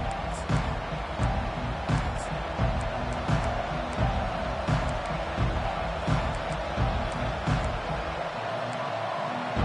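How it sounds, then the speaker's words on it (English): A large football stadium crowd roars steadily at Michigan's home opener against Kansas as the opening kickoff is fielded, a dense unbroken wall of noise with scattered whistles and bursts throughout. "This crowd trying to show them what it's going to be like all day in this house."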